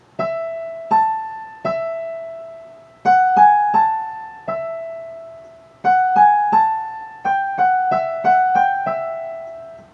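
Piano picks out a short melody from Bach's 'Marche', a dozen or so soft single-note strikes in a gentle rhythm, each note ringing and fading, clear and close.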